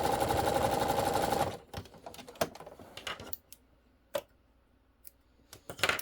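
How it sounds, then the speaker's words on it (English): Sewing machine back stitching a steering wheel cover: a dense steady whir for about a second and a half, then short separate bursts and clicks with quiet gaps. "so back stitching this again"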